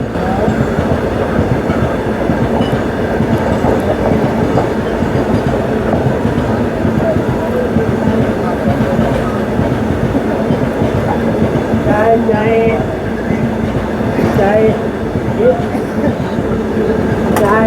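An Amrit Bharat Express train hauled by a WAP 7 locomotive runs with a loud, continuous roar and rhythmic clatter of wheels on rail, with faint squeals now and then.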